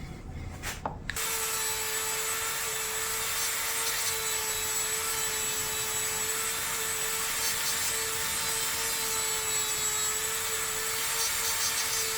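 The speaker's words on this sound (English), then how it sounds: "maybe I'll hit them with the Dremel buffer real quick, just to shine up the areas that I might have dulled with my sandpaper" Dremel buffer polishing the frets of a bass guitar, a motor whine starting after a brief click and holding a steady high-pitched tone with a faint rubbing hiss, close and alone.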